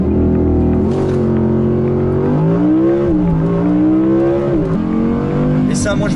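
An Audi R8 V10 Performance accelerates hard on the autobahn toward 300 km/h, its V10 loud and close, rising through the revs with a couple of brief shift dips and a steady roaring tone.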